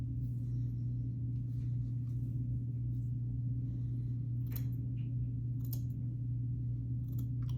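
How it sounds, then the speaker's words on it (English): Scissors trim stray mustache hairs, a few faint, sparse snips over a steady low background hum. "I'm cutting the hairs that are not going in that swooping direction"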